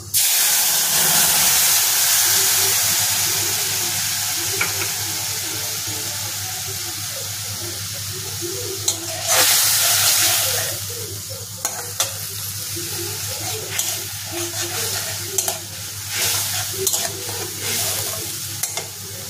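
Spices sizzling in hot oil in a pan, starting with a loud burst that settles into a steady crackle, with stirring scrapes and clinks in the second half.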